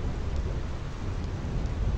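Thunderstorm in Final Fantasy X HD Remaster: steady heavy rain with a low rolling rumble of thunder, continuous and fairly loud with no voices.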